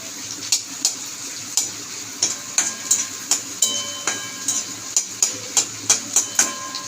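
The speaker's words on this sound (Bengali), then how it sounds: "কালো জিরেটাও একটু পেঁয়াজের সঙ্গে একটু ভাজা ভাজা মতন করে নেবো" A soft, steady sizzle of black cumin and onions frying runs beneath rhythmic clinks and taps of a utensil stirring in a metal pan, repeating about every half second.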